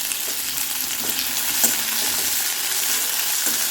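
Onions sauté in hot oil in a pan, giving a loud, steady sizzle with a few soft stirring clicks and no voices.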